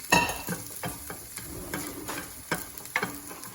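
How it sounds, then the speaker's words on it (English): Onions for risotto bianco fry in a pan while a spoon stirs and scrapes them: repeated rhythmic scraping strokes over a close, continuous sizzle. "You really want to scrape all the onions because you don't want any of those onions getting brown."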